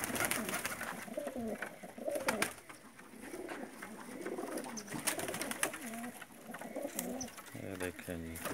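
Pakistani teddy pigeons, some Rampuri, from a breeder's loft, cooing repeatedly in overlapping rolling calls close by, with occasional wing flutters and someone talking over them.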